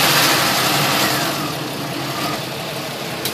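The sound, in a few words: 3.1/3.4 liter engine idling while bleeding coolant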